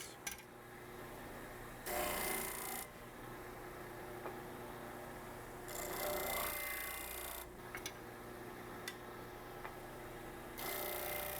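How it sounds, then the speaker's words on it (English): A disc sander grinds the edges of a wooden wren cutout, a steady motor hum broken by several bursts of harsher rasping as the wood is pressed against the spinning disc. "Now I'm off to the disc sander to make all my edges perfectly square."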